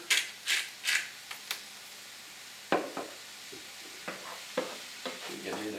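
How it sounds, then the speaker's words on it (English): Mushrooms and vegetables sauté in a pan for vegetable lasagna, with a low sizzle beneath scattered scraping stirs and spoon clatters, several sharp strokes early and more spaced ones later. "Allow those to begin to start sauteing."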